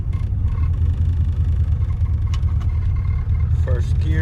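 A 1997 Ford Mustang engine with a newly fitted idle position sensor runs at a steady close rumble throughout, with a faint human voice surfacing briefly near the end.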